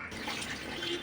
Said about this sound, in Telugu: ఇప్పుడైతే వాటర్ని వంపేసాము.